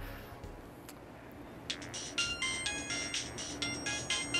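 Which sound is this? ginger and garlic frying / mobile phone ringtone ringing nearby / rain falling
mobile phone ringtone ringing nearby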